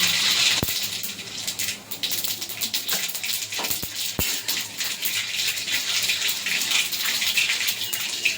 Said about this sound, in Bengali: সর্ষে ফোড়ন দেব, কালো সর্ষে।